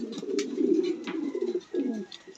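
Pigeons in a foster pair cooing close by, a low throaty burbling that runs in two steady phrases with a short break, alone without talk.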